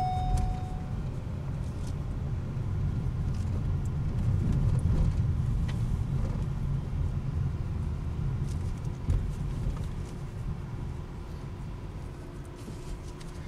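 A Ford Escape SUV with a small four-cylinder engine rolls through a parking lot to park, a steady, fairly close low engine and road rumble running throughout with no talk.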